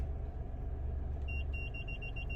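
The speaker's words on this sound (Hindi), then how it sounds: "अब ये हाँ ग्रीन लाइट पे कहीं यहाँ पे ये बीप करने लग गया है।" A 2023 Renault Kiger's parking sensor beeps as the car nears an obstacle, a steady run of short, evenly spaced electronic pips starting partway through, faint over a low engine rumble.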